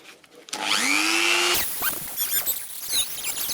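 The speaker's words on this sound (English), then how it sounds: "for that I will use my Dremel tool" A Dremel rotary tool spins up with a rising whine and cuts into a metal tool, a loud, close, steady grind that breaks into scraping, squealing contact noises as the cut continues.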